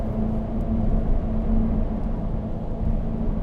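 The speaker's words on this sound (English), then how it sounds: "this just sounds like pure V8 race car" A 2015 Chevrolet Corvette Z06 with a supercharged V8 gives a deep, steady engine drone with a strong low hum, heard from inside at sustained throttle, with little supercharger whine and no talking.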